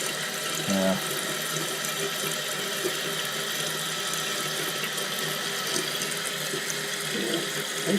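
An old toilet tank refills with water after a Fluidmaster fill valve repair, a steady close hiss and rush of running water that continues unbroken throughout, with a brief clunk near the start.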